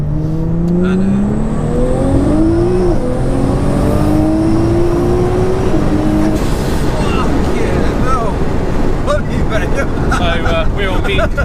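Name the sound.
1100bhp Nissan GTR engine revving on medium boost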